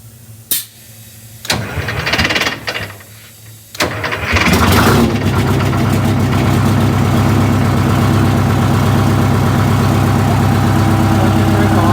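A V730 engine cranks with a few short starter bursts, then catches and settles into a loud, steady idle that runs on alone to the end.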